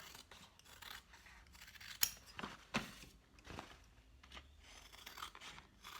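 Scissors snip repeatedly through excess fabric on a sewn crossbody bag, close and quiet, a series of crisp cuts with soft rustling of cloth between them.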